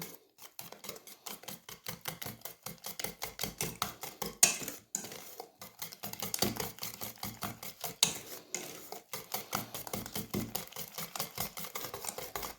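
Rapid, rhythmic clinking of a utensil against a bowl while beating thick paska batter, steady strokes with short pauses, close and clear with no talking.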